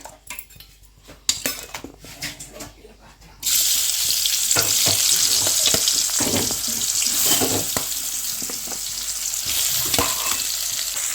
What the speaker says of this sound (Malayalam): ഇനി നമ്മളിത് കുറച്ച് വെളിച്ചെണ്ണയിൽ ഒന്ന് വറുത്തെടുക്കുക